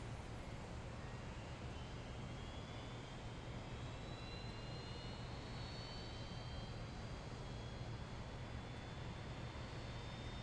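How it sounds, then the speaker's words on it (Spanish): An Airbus A320neo jet engine spooling up during start in the X-Plane flight simulator, a faint steady rumble with a thin whine gradually rising in pitch over about ten seconds. "Starting engine 1."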